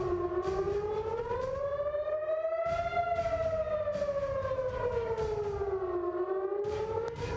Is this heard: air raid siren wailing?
yes